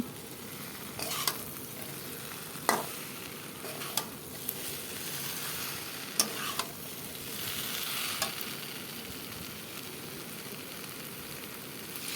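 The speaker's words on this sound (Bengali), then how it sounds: "মশলা দিয়ে কষিয়ে নেওয়া সবজির মধ্যে এখন গরম জলটাকে ঢেলে দেব" Hot water poured into spice-fried raw banana and vegetables in a pan produces a continuous bubbling hiss, dotted with occasional clinks and taps of a utensil at moderate volume, with no speech.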